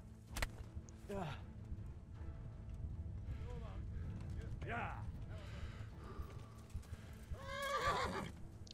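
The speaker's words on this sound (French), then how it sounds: "Mon cheval a peur ou quoi" A horse in the video game Kingdom Come: Deliverance neighs and whinnies several times, sweeping cries at intervals over a low rumble, with clip-clopping hooves and creaking gear, the loudest whinny near the end.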